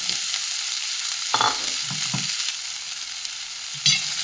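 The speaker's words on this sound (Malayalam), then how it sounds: "പാവയ്ക്ക മൂപ്പിച്ചെടുക്കാം." Bitter gourd frying in hot oil in a pan gives a steady, fairly loud sizzle, with a few soft scrapes of stirring now and then.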